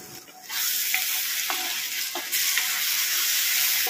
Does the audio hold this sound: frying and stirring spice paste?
yes